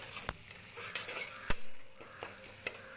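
Chopped tomatoes and spices such as Kashmiri red chili powder and turmeric sauté for an egg curry masala, stirred with a utensil. A steady sizzle runs underneath, with sharp scraping clinks of the spoon against the pan at irregular intervals.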